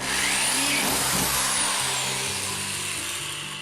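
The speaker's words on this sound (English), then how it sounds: "I'm going to drill a hole right about in there" A power drill bores a hole through a plastic rain barrel, a loud steady whine with rough grinding texture running continuously and easing off slightly toward the end.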